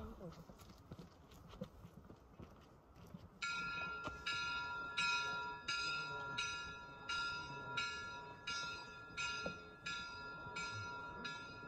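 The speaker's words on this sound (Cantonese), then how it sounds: "鐘聲好似叫我哋返屋企咁樣" At Lake Yamanaka in Japan at sunset, after a few seconds of low background noise, a bell starts ringing with about ten evenly spaced strikes, each clear and ringing out briefly.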